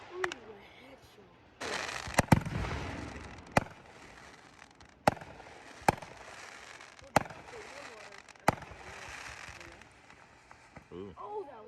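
Fireworks at an evening show burst one after another, a sharp bang every second or so over a steady crackling hiss, heard from a distance while people talk and react nearby.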